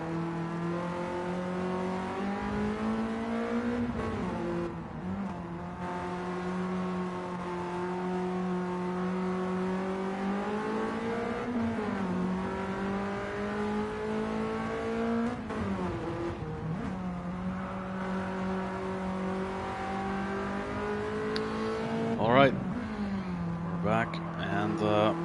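Race car engine heard onboard in Gran Turismo 7, a steady droning engine note that rises and falls through gear changes, with a brief sharp burst near the end, under continuous talking.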